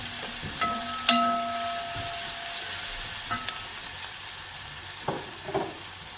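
Green chilies and garlic cloves sizzle and fry in a pan for a duck pepper roast, a steady soft crackle with a few clinks and stirring knocks, fairly quiet and alone.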